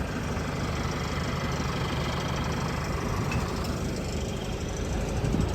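An MTZ 1025.2 tractor fitted with a MAN engine of about 160 horsepower runs steadily nearby, a constant low, rough engine drone with a faint knocking texture and no speech.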